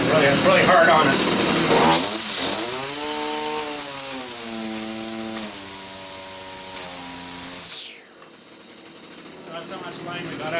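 A string trimmer with too much line out starts up, its engine whining loud and strained for several seconds as the overlong line drags, then cuts off abruptly and winds down to near silence.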